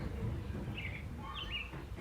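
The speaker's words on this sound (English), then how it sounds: "I hope you can hear some of the bird sounds at least." Birds singing outdoors, a few short clear chirps and whistled phrases over a soft background hum, fairly faint and spaced apart.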